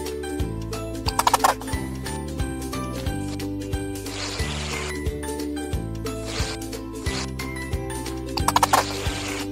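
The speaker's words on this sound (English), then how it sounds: "Now spray whipped cream." Whipped cream is sprayed onto a cake for a baby shower in a baby care video game, with a few short hissing bursts and clicky mechanical effects over cheerful looping background music.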